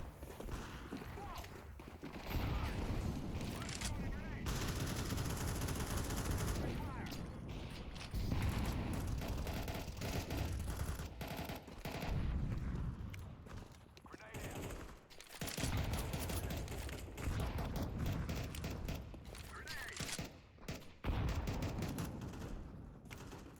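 Sustained bursts of automatic gunfire in the sci-fi shooter game Entropia Universe, dense and loud with short gaps, mixed with mechanical clatter while a player talks over it.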